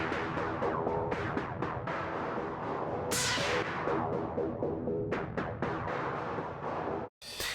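A Noise Engineering Manus Territas modular synth module makes dense, shifting textured tones with many quick percussive ticks and a bright noisy sweep midway, ending in a brief gap and a burst, with no voices.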